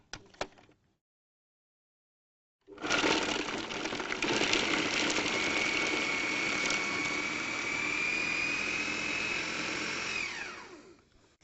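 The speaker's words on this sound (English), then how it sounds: "I've just coarsely chopped the onion because the food processor is going to process it" A food processor chops and blends coarsely cut onion, garlic and tofu. After a short knock and a pause, a loud, steady motor whir starts and runs for several seconds before winding down.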